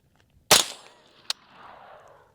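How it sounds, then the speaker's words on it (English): One sharp crack from a Griffin Armament HRT 5.56 rifle fired at a steel target, followed a moment later by a short metallic ping from the hit and a fading outdoor echo. "I'm gonna just shoot it at the steel."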